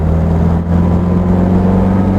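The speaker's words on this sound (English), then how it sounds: "Hear that little rasp of the A-series engine." Austin Healey Frogeye Sprite with an A-series engine pulling hard in third gear on a road, a loud close raspy drone with a steady low hum throughout.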